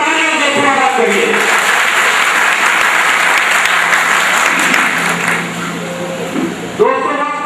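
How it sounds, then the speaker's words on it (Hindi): An audience in a hall gives a loud round of applause to welcome a legislator at a public program, sustained dense clapping with a voice briefly heard at the start and again near the end. "जोरदार तालियों से स्वागत करिए।"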